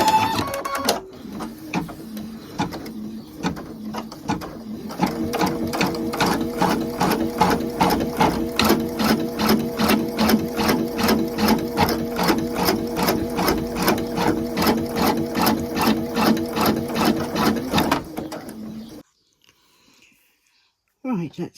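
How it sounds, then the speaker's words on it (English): An embroidery sewing machine in a magnetic hoop stitches out a basting stitch, a fast, steady, rhythmic mechanical chatter running close and loud for most of the clip before stopping abruptly. "I've got a basting stitch around it, so it'll stitch out the basting stitch first."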